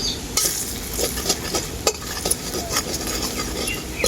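Ground spices with grated ginger frying in oil in a pan, a continuous loud sizzle punctuated by repeated scraping stirs and light clinks of the spoon.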